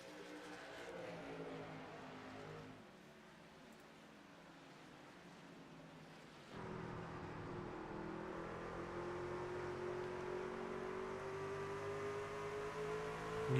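An outlaw race truck, the number 13 machine, runs under steady light throttle in a short-track race, a droning engine that rises after a brief dip and then holds on, with no talk over it.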